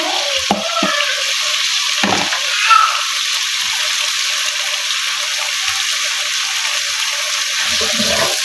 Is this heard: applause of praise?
no